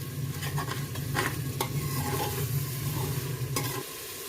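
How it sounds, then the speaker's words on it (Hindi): Masala for mutton khichda roasting on high flame, a continuous sizzle with a spoon scraping and stirring in irregular strokes, close and steady, easing slightly near the end. "इसको भी मैं 2 से 3 मिनट तक अच्छे से भून लूंगी"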